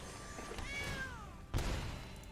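A cartoonish cat meow from a card in the MTG Arena digital card game, a short rising-falling mewing tone over a steady game soundtrack, followed by a soft thud about a second later.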